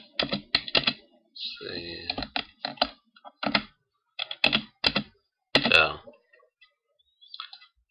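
Clicky computer-keyboard keystrokes come in quick bursts and pauses while a password is entered during a disk-encryption setup on Ubuntu Linux. A person speaks briefly between the typing runs.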